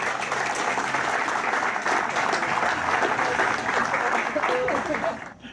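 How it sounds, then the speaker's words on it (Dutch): Outdoor crowd at a route opening event gives sustained applause with dense clapping, loud and close, trailing off at the end. "Dus echt zeker voor jullie echt een applaus."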